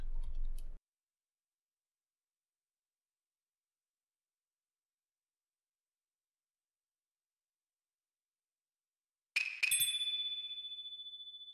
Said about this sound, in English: Wind chime.